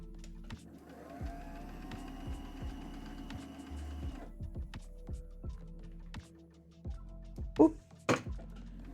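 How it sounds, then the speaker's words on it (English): A sewing machine winds a bobbin with a steady mechanical whir for several seconds. Rhythmic clicks and taps follow it, and a voice talks at times. "I always like watching bobbins wind"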